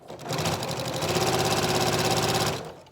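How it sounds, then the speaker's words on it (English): A sewing machine runs steadily for about two seconds, stitching a quarter-inch seam with a backstitch on a fabric face mask, a loud rapid mechanical whir that starts and stops cleanly. "So you want to make sure you're just using a 1/4-inch seam, and you back stitch in the beginning."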